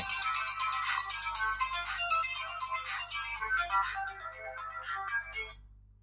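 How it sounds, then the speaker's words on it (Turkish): A telephone ringtone chimes in a steady, repeating electronic pattern, loud and close, playing alone for about six seconds before fading out. "o zaman telefon geldi"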